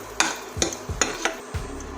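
Raisins frying in hot ghee in a pan, cooked after cashews for kesari bath, with a spoon stirring in four or five sharp scraping strikes over a soft, low sizzle.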